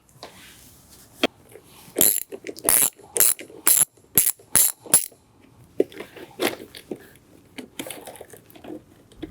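A 10mm wrench ratchets loose the negative battery terminal on a Jeep. Close, crisp ratcheting clicks come in several quick bursts, followed by softer scattered taps and clinks, with no talking.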